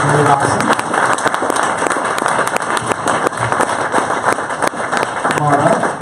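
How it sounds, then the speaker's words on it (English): An audience at a Capital Factory event stands and applauds in dense, loud, continuous clapping with crowd noise mixed in, lasting the whole stretch. "let's give them another big standing round of applause like you did for me"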